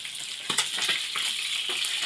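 Tambakol fish frying in a pan gives off a close, steady hiss and sizzle with small crackling pops, and no voices are heard.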